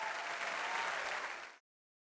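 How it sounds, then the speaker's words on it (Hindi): A talent-show studio audience breaks into sustained applause that holds at full strength for about a second and a half, then cuts off abruptly to silence. "एक बार जोरदार तालियां हो जाए"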